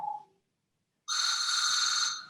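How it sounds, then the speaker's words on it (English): An office phone rings once with a steady electronic tone after a short speech fragment and a pause, fairly loud and close. "Oh, that is my office phone."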